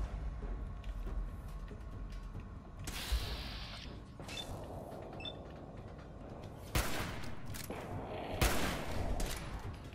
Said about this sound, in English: I really just missed both fucking shots.